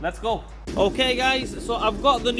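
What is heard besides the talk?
None of the usual background noises is heard.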